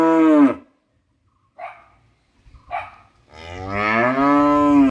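Cows in a small cattle shed on a rural farm plot, two long loud moos near the start and end with quieter grunting calls between, close by and with no talk.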